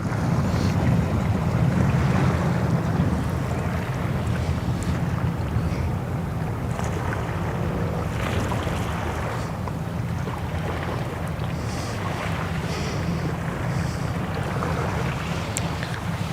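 Steady wind buffeting an outdoor microphone on the Westerschelde shore in the Netherlands, a constant low rumble with soft water and distant ship noise underneath, no voices.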